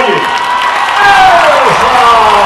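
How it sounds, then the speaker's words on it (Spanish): Loud crowd applause at a live Dominican music concert, a thick continuous roar of clapping mixed with cheering and gliding whistles, close and intense throughout, with voices shouting in the mix. "aplauso"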